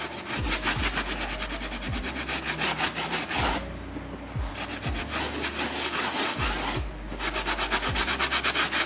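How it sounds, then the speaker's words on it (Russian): A rag rubbing back and forth across a decorative plaster wall finish being washed, producing steady rhythmic scrubbing strokes, close and fairly loud, with a couple of brief pauses between passes. "Сейчас возьмем тряпку и помоем."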